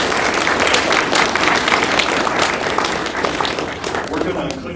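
Audience applause rolls on at a lecture event, dense, sustained clapping from a room full of people, loud and continuous throughout.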